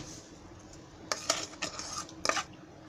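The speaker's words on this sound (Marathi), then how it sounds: "हे काकडीमध्ये असं गूळ मिक्स करून घ्यायचं" Grated jaggery is stirred into grated cucumber with a spoon, a few faint scraping, clinking strokes against a bowl in short bursts over a quiet background.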